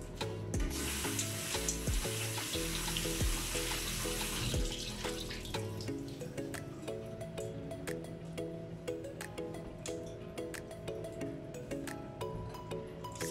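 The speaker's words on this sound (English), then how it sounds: "first we're just gonna wash the mangoes properly" Mangoes being washed under a running kitchen tap: a steady rush of water with splashing that is busier early on, then a continuous stream with small clinks and knocks from handling the fruit.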